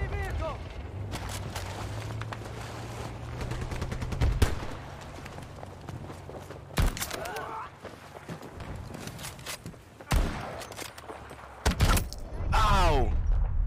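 Rapid bursts of Battlefield 2042 gunfire crack over a low tank engine rumble, with sharp shots scattered throughout and a whooshing blast near the end; a voice talks briefly.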